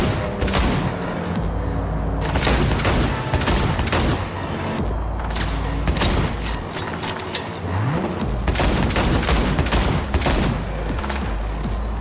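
Rapid gunfire in the Cyberpunk 2077 video game keeps up dense bursts of automatic shots and heavy booms, nearly nonstop and loud.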